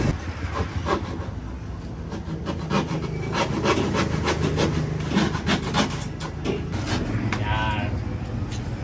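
Hand saw cutting through old scrap plywood, a steady rasping back-and-forth stroke repeating quickly for several seconds, fairly close, with a voice speaking over part of it.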